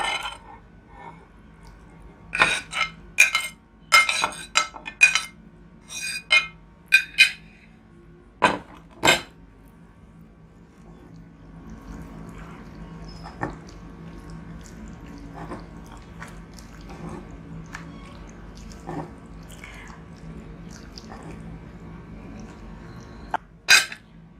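Spiced chicken marinade being mixed in a bowl, with a cluster of sharp clinks and scrapes of utensil against dish early on, then quieter squelchy mixing and occasional taps; no speech.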